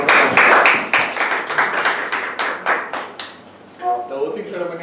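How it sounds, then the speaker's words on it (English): Hand clapping from a small group at a Toastmasters club meeting, a burst of claps for about three seconds that thins out, followed by a voice speaking. "You can have a round of applause."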